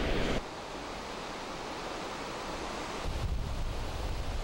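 Ocean waves wash onto a sandy beach in Miyazaki, a continuous broad roar of surf mixed with wind buffeting the microphone, loud and unbroken with no voices.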